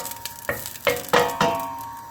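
Coconut oil, one tablespoon, sizzling in a cooking pot, heard as a few sharp crackling bursts that flare and fade over a steady faint hiss, close and moderately loud with no talking.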